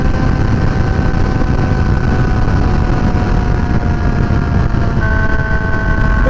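Steady, loud engine drone of a motorcycle being ridden, droning continuously with a constant pitch and no breaks, like an onboard ride recording.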